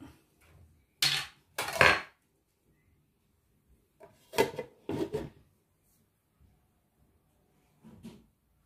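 A lid is set over a bowl of green chapati dough: a few sharp clattering knocks of kitchenware come in separate bursts with quiet gaps between them.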